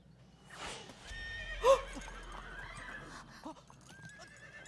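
A horse neighs and whinnies within a video game, a single sharp whinny standing out midway over quiet game ambience, with hoof clip-clops and light effects around it.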